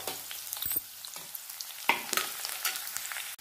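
Chopped onion hits hot oil in a wok with bay leaves and asafoetida, giving a crackling sizzle with sharp pops and stirring clatter, close and alone.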